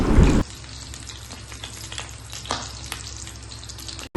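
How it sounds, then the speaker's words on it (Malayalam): Dried red chillies fry with mustard seeds in hot coconut oil, opening with a loud sizzle and then settling into a steady low crackle with occasional sharper pops. "കടുക് പൊട്ടി വരുമ്പോഴത്തേക്ക് അതിലേക്ക് വറ്റൽമുളക് ഇട്ട് കൊടുക്കാം"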